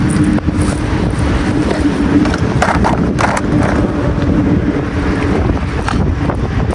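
Steady wind rushes and buffets across the microphone throughout while fishing at a spillway, a constant broadband roar with occasional stronger gusts and no voices.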